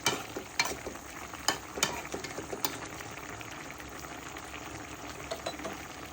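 Okra with prawns cooks in a pan for a Bengali-style curry, giving a steady bubbling sizzle with scattered clinks and stirring scrapes, no voices over it.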